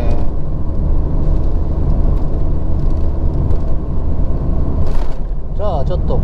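A Nissan Skyline R33 GT-R (BCNR33) pulls away from a stop with a steady, loud low engine rumble heard from inside the car, and a voice speaks briefly near the end.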